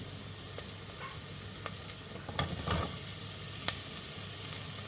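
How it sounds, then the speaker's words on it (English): Chopped celery sizzles in a pan for homemade tomato basil soup, a soft steady frying hiss with a few stirring clicks and scrapes, no talking. "So, I'm now going to go in with the celery"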